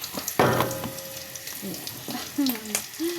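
Tofu sisig hits a hot pan and sizzles for a moment, with stirring clatter and brief bits of voice over the frying.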